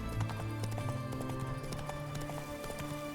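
Roach, the horse in The Witcher 3, gallops with a steady, rapid clip-clop of hooves under a low rumbling game background that continues throughout.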